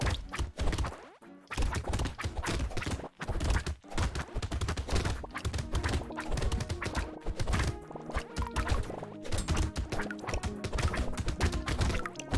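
Dense, clattering bullet fire and impact hits from a horde battle in the video game Brotato, a busy continuous barrage of small pops and thwacks, fairly quiet overall, with no talk.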